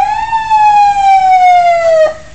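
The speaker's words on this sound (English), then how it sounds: "Can you hear a siren again?" A single police car siren, operated manually, sweeps slowly downward in a steady wail, loud and close, then drops off abruptly near the end.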